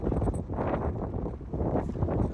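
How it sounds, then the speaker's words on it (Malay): Strong wind blows steadily outside a mosque in Doha, Qatar, a loud continuous roaring buffet across the microphone with gusty surges and no clear voices. "angin kuat tu"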